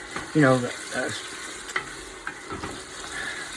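Garlic sizzling and frying in a pot on a large stove burner set to low, a steady broadband crackle with occasional stirring clicks, one brief voiced sound near the start.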